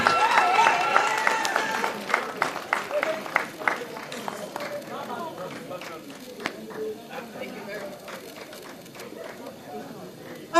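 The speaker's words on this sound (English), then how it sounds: "Una clap, una clap, una clap." An audience at an awards ceremony claps loudly right after a winner is announced, the applause thinning out over several seconds with voices and whoops over the clapping.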